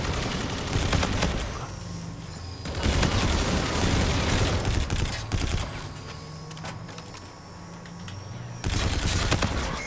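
Rapid bursts of shotgun fire in a Call of Duty: Infinite Warfare multiplayer match, loud close volleys in several clusters separated by brief lulls, with background game ambience and no talk.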